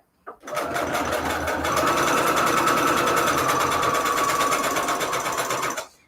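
A sewing machine runs a steady straight stitch, its fast even needle rhythm humming loudly and continuously for several seconds before stopping, with no talking over it.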